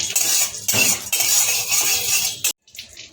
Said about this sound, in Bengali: কাজুকে আমি এর মধ্যে কড়াইয়ের মধ্যে একটুখানি শুকনো কড়াইয়ে নেড়ে নেব